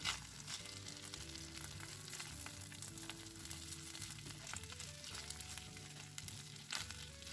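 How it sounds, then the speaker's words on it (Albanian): Washed, drained rice frying lightly in a pan for a lamb and rice casserole, with a steady soft sizzle that runs the whole time under a background of faint music, with no one talking. "I japim një skuqe të letë, derisa të ngjisin në fundin e tiganit."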